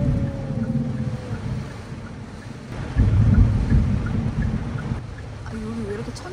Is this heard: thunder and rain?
yes